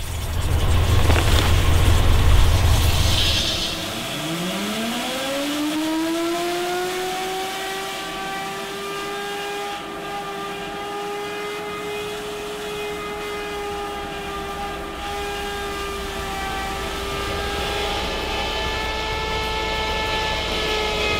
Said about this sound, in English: Now we're going to start the high pressure water jet in and hopefully cut the roots out of the line.